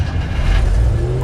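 A desert-built Land Rover Defender at a car meet, its engine giving a loud, close, rough low-pitched rumble with a brief rev, no talk over it.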